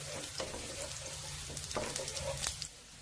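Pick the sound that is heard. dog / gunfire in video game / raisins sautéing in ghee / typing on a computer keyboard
raisins sautéing in ghee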